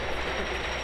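The Outlaw Run wooden roller coaster train at Silver Dollar City rumbles overhead in a loud, continuous roar of wheels on track, broad and steady throughout.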